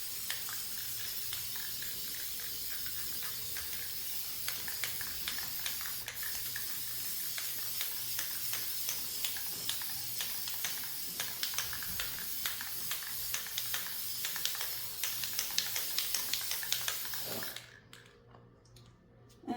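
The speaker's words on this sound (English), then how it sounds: "So if I start spraying it with the black" Black spray paint hissing from an aerosol can onto a ceramic deer, a steady close spray with rapid clicking ticks running through it before cutting off near the end.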